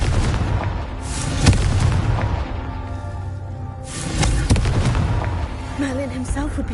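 The Confringo fire-blast spell in Hogwarts Legacy goes off in a series of booming, artillery-like blasts, loud and close, with a brief magical whine near the end.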